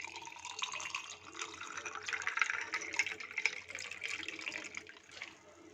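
Water poured over ice cubes in a glass for a lemon juice drink gives a continuous, soft splashing and trickling that lasts several seconds, near the microphone and otherwise quiet.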